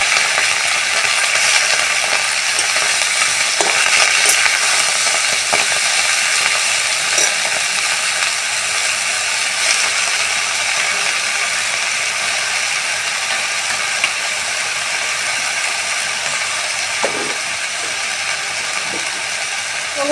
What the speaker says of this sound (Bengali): আমার আদার মরিচটা তো ভাজা ভাজা হয়ে গেছে।